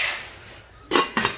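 An aluminium cooking pot handled close up, with two sharp metallic clanks after a soft rustle, the second clank ringing briefly.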